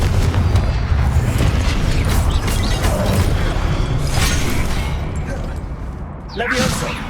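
A Confringo fire-blast spell goes off in the video game Hogwarts Legacy, a booming explosive burst amid continuous game sound and combat noise, with a voice speaking over it.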